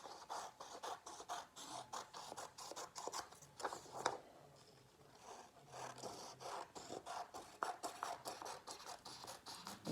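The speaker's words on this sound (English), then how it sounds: "we are going to cut around the entire outside edges of this paper" Scissors snipping around the outer edges of a sheet of paper for a lapbook project, a steady run of close, crisp rasping cuts with a brief quieter pause midway.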